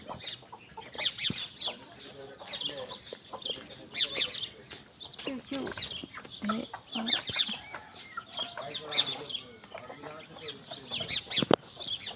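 Sparrows in village trees on an early rural morning chirp in a dense, continuous chatter of quick, high calls at moderate distance.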